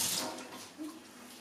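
Warm tap water runs softly in a sink while a Cavalier King Charles Spaniel puppy gets its first bath, a faint, steady splashing and trickle.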